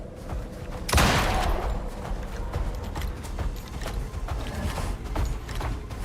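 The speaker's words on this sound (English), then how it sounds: "I hear the foot stomps." A Rimetusk creature in the Icarus survival game stomps with one loud, heavy impact near the start, then a run of repeated thudding footfalls.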